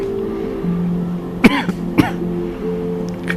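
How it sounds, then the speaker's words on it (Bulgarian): Two sharp, close coughs about half a second apart break over a steady low hum, with no talking around them. "Какво е за тебе тази кашлица в този момент?"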